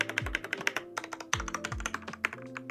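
A computer keyboard from a gaming setup is typed on close up, a quick run of crisp clacking keystrokes with a few heavier thunks and no talking.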